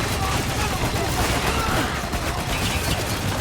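Dense video game gunfire laying down suppressing fire, a continuous crackling barrage of shots at steady moderate loudness, with faint speech underneath.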